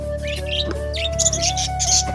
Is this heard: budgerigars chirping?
yes